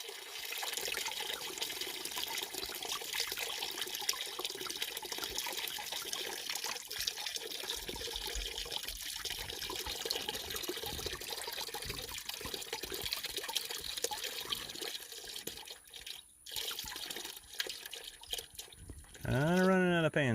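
Coolant drains steadily from the lower radiator hose of a 1996 Ford F350 7.3L into a pan, a continuous close trickling and pouring that runs throughout with a brief shift near the end.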